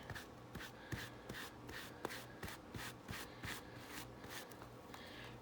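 Gold ink is rubbed by hand along the edges of handmade journal pages, giving soft, rhythmic scratchy strokes repeated steadily and close up, with light taps between passes.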